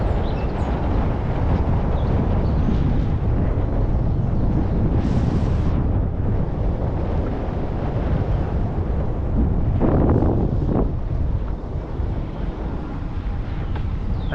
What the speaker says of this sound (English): Don't want the wind to be too deafening.